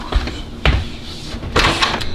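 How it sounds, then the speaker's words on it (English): A door is opened indoors during a game night at home, giving a few dull knocks and clunks spaced over about two seconds against a quiet room murmur. "I'm about to go open the door."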